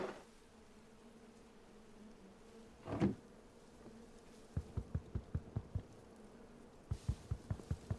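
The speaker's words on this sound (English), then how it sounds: "It sounds like bees, but it's actually more meant to be the sound of the" A soft, bee-like buzzing drone of wind from a Minecraft modpack game plays quietly beneath a brief muffled bump and a run of sharp rhythmic clicks or taps.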